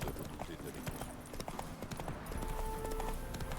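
A horse's hooves clip-clop steadily in The Witcher 3 video game, a rhythmic trot heard at moderate volume beneath someone talking.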